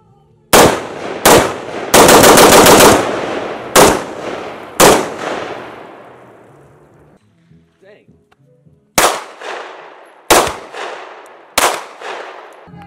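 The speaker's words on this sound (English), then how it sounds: "all we're doing is shooting beer bottles" Guns firing at beer bottle targets, with loud single shots and a short rapid burst, then more spaced single reports, each ringing out with a decaying echo outdoors.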